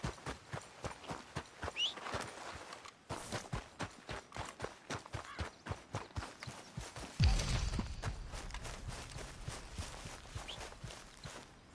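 Horse hooves clop in a steady rhythm on hard ground in a PS4 video game, followed by a heavy thud, then the hoofbeats carry on more faintly.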